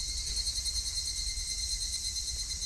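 Cicadas in the Higurashi When They Cry visual novel keep up a constant, shrill, pulsing drone, a steady high-pitched buzz with no talking over it.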